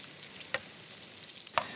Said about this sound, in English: Add some onions and some garlic, and we're just going to slowly start to saute that up a bit.